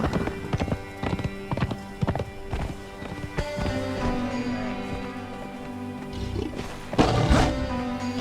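Horse hooves clip-clop in a steady rhythm in the video game Conan Exiles, close and clear, with a low rumbling growl rising over them near the end.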